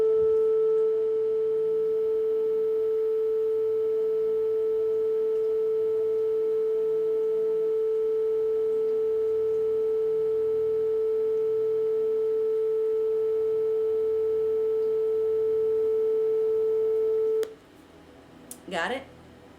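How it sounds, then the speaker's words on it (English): A steady pure sine test tone holds at one unchanging pitch for about seventeen seconds, then stops abruptly, followed by a brief burst of other sound. "Now here's the second tone."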